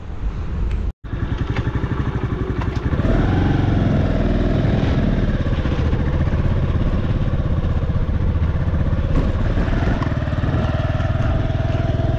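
A motorcycle engine drones steadily and loud as the bike climbs a muddy hillside road after heavy rain, with a slight rise in revs after a brief dropout at the start.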